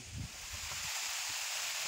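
Wind blowing outdoors, a soft, steady rushing hiss with a few low gusty bumps against the microphone near the start.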